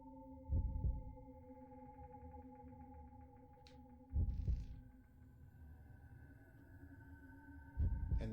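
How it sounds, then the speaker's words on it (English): Slow, deep heartbeat thuds in the horror game Fatal Frame III, three heavy pulses spaced several seconds apart over a quiet droning game ambience with faint tonal hum. "You guys can hear the heartbeat, right?"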